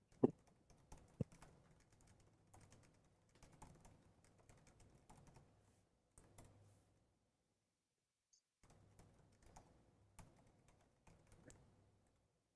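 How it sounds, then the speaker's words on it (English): Computer keyboard typing during a livestream, with steady bursts of key clicks that pause for about two seconds midway, then resume at the same pace, close and fairly quiet. "let me actually type in here to remind people"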